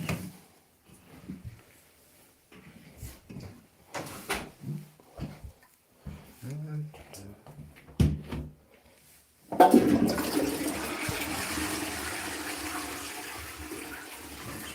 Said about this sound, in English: I'll whack down the toilet, that's for sure. In fact, I'm going to flush the bug